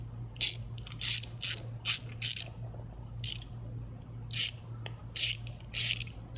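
Ratchet clicking in short bursts while loosening a hose clamp during a Unitronic cold air intake install on a VW 2.0T TSI, about eight quick ratcheting runs separated by brief pauses, close and fairly quiet over a steady low hum.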